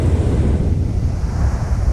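Strong wind blows on a beach at Caister-on-Sea in Norfolk, a steady rough roar buffeting the microphone with surf rumbling beneath it, loud and close, no talking.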